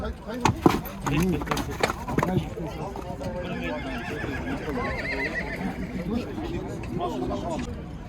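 Horses whinny and neigh repeatedly at a busy horse market in Kyzylorda, with hooves clip-clopping and people talking throughout the crowded scene.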